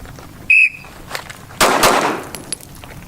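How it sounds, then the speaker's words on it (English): Pistol shots fired in a quick controlled pair at an outdoor shooting range, a loud blast close by that is preceded by a sharp electronic shot-timer beep, with no talking. "Those are pretty rapid shots."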